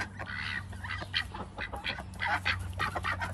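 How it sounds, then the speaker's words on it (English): Several ducks quack in quick, overlapping bursts on a morning outing toward a pond, fairly close and steady, with a low continuous hum underneath. "Let's go get the duckies."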